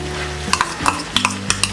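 A spoon stirs softened onions and tomatoes frying in a pan, several quick scraping strokes over a steady close sizzle.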